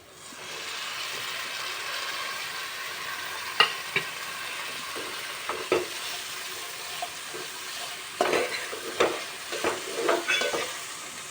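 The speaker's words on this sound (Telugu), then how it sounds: "ఇదైతే ఇప్పుడు చిక్కుడుగాయ అయితే మంచి ఆయిల్లో మగ్గింది" Broad beans fry in oil for a bean and tomato curry, with a soft continuous sizzle that swells into clusters of crackles and stirring clatter toward the end, close by with no voices.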